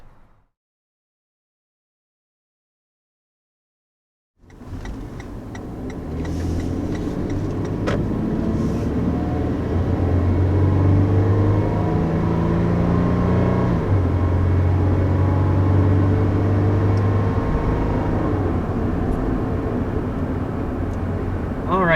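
A 2020 Toyota 4Runner with its 4.0-liter V6 pulls away after a moment of silence, its engine note climbing loud and steady with rising harmonic tones up to about 55 mph, the drone sustained to the end.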